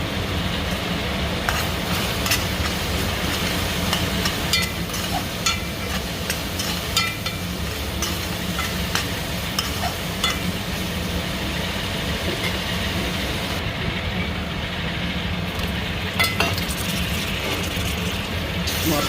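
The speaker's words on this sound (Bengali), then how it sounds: "মশলা ভালো ভাজা হয়ে গেছে" Turmeric, chilli powder, cumin and coriander powder fry in oil for masoor dal pulao, giving a steady, loud, continuous sizzle with occasional stirring clicks, close by and without talk.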